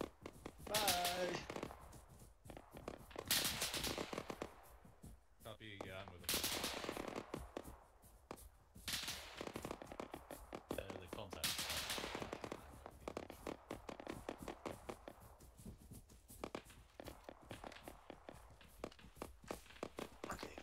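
Gunfire in ArmA 3 during a pressure-fire combat operation, dense rapid bursts of shots in repeated volleys with brief pauses, moderately loud and mixed with other battlefield sounds.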